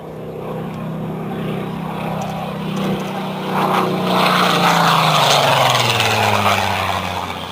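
A Spitfire Mk18 fighter with a 2,300 horsepower propeller engine roars overhead during an aerobatic pull-up, a loud steady drone whose pitch drops as it climbs and passes, with no talk over it.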